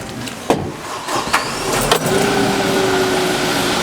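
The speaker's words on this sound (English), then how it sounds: "we're gonna hop up in the tractor, fire it up and raise the loader" A Kubota M6-101 tractor's diesel engine cranks with a few clanking knocks, then catches and settles into a steady idling rumble with a faint whine.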